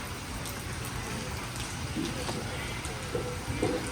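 Rain falls at a beach hostel in Barra da Lagoa, Florianópolis, Brazil, giving a steady patter with scattered nearby drips and splashes throughout.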